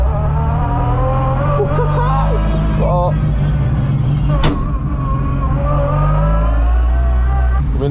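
A Lada car engine roars and revs continuously close by while drifting on ice in Russia, with tires whining and slipping, as a voice talks over the noise.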